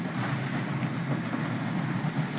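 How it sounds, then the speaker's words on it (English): Locomotive rolling along the line with a caboose hop, a steady rumbling rhythm of wheels and chuffing at moderate loudness, no voices. "Kryssy was puffing along the line with a caboose hop"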